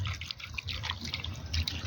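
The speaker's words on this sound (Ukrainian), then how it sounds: "важливо влити сюди е, мінеральну газовану, сильно газовану воду, так, щоб покрило м'ясо" Strongly carbonated mineral water is poured over meat in a shashlik marinade, a faint close trickle with small fizzing, bubbly splashes over about two seconds.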